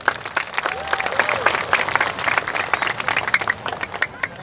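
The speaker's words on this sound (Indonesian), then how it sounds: "Tepuk tangan untuk BTV." A crowd at the Madiun city anniversary celebration in Indonesia applauds with dense, steady clapping that swells and then fades slightly, with a few voices mixed in.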